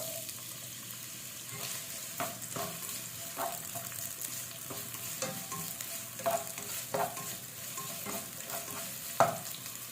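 Onion fries in a hot pan with a steady soft sizzle, while a utensil stirs and scrapes in irregular knocks, close and moderately quiet.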